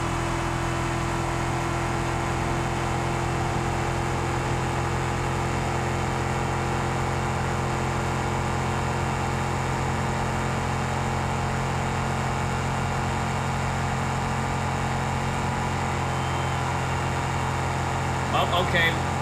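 A car engine in a racing video game runs at a steady drone close to overheating, humming evenly throughout with no clear revving.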